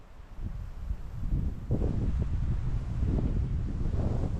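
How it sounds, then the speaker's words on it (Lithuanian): Wind rises over a forest lake, a soft, gusty rush that builds after the first half-second and keeps blowing steadily, fairly faint and with no voices. "Jo, vėjas kyla."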